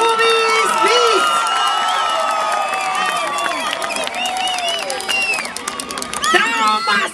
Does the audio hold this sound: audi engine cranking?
no